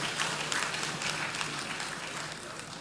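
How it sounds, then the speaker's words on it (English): Audience applause at a centenary celebration in Ghana marking King Prempeh I's return from exile, a steady dense wash of clapping holding through the whole stretch, with faint voices beneath it. "Please, one more time, a resounding round of applause."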